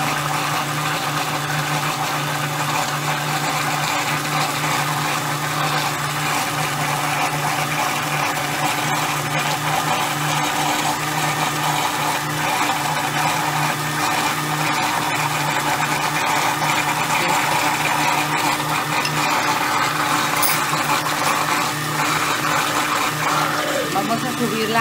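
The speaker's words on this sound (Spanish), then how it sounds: "vamos a prender aquí nuestra licuadora una vez más" Blender whirring steadily as gelatin is mixed into a no-bake cheesecake filling, a continuous even motor hum that stays at a constant level throughout.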